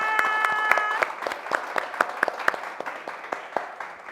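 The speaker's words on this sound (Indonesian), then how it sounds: "Oke, tepuk tangan dulu semuanya." Studio audience at an Indonesian music show applauding, fairly sparse, distinct claps with sharp individual hits over a quiet background, with a brief musical tone at the start.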